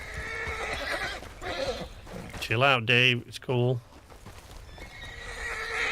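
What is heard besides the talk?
horse neighing in video game Red Dead Online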